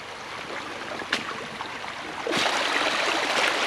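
Flood runoff water from snowmelt flows in a continuous rushing wash, moderately close. A sharp knock sounds near the middle, and the flow grows louder and brighter for the final second.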